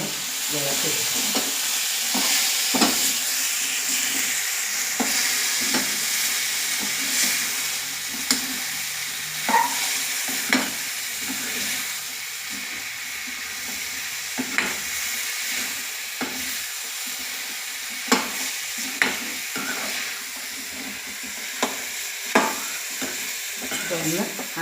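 Coconut pieces and jackfruit seeds are stirred in a sizzling pan, with a steady frying hiss throughout and sharp scraping strokes of the spoon recurring irregularly, close and moderately loud, with no talking.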